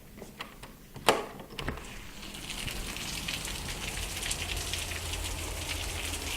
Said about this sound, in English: It started raining last night, and it still is.